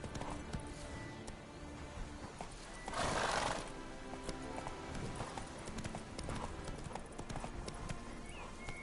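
Roach, the horse from The Witcher 3: Wild Hunt, gallops with steady hoofbeats under a game soundscape, and a loud whinny rises briefly near the start.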